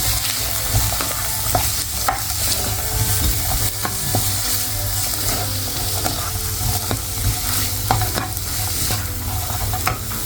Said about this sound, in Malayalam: മൂന്ന് ഉള്ളി ഇട്ട് കൊടുത്തിട്ടുണ്ട് നമുക്ക് നന്നായിട്ടൊന്ന് സോട്ട് ചെയ്തെടുക്കണം